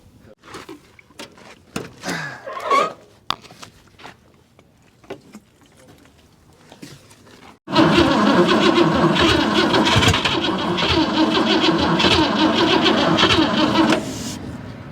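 A 1957 Oldsmobile Rocket engine, sitting abandoned for 30 years, cranks and catches loud and close, then runs at a steady, rough roar for about six seconds before dropping off. Scattered clanks and movement come first, with the engine otherwise quiet.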